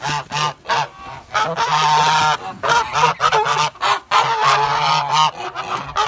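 Several domestic geese being weighed honk loudly and repeatedly close by, harsh overlapping calls in quick uneven bursts.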